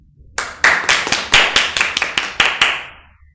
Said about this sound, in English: I want from you to clap for Muhammad.